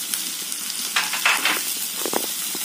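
Chopped onion, ginger and peeled garlic sizzle in a little hot oil while making white egg korma, a close steady frying hiss broken by a few louder crackles and stirring scrapes.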